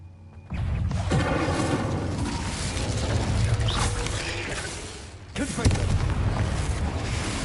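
Incendio fire spell cast in Hogwarts Legacy: a loud burst of roaring, crackling fire with booming mechanical thuds, a brief lull, then another blast near the end.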